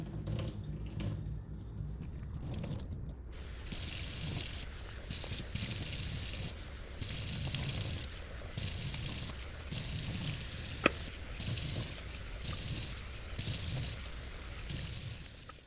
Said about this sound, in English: hold it underneath when you're draining this into the sink